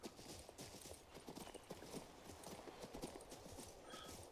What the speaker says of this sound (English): we can just call for the horse